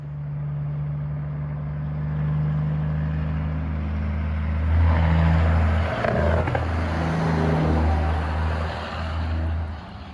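A Peterbilt truck, likely in Australia, rumbles past with a deep, loud engine drone that swells and chops into a stuttering engine-brake bark midway before fading, close and alone with no talk.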